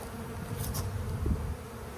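Dense, steady buzzing of a honey bee swarm around its hive, a continuous close drone of many wings filling the short stretch with no voices.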